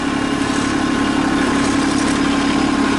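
A new Kubota B2650 compact tractor engine runs steadily just below full throttle, a close, even mechanical drone with a low rumble and no change in pace, heard alone.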